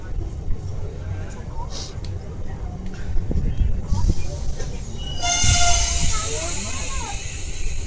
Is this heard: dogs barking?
no